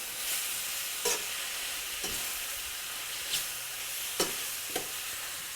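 Greens wilting in a hot pan give a steady, close frying sizzle and hiss, broken by a few brief stirring scrapes at irregular moments.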